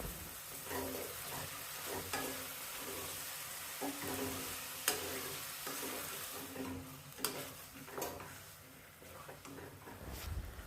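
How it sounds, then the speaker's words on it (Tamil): Large mushroom pieces sauté with onion and tomato for Chettinad mushroom kuzhambu, a close, steady sizzle with repeated spatula scrapes and stirs against the pan, moderately quiet, with no talking. "அதையும் வெங்காயம் தக்காளியோடு சேர்த்து கொஞ்சம் வதக்கணும்."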